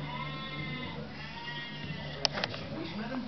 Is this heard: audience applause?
no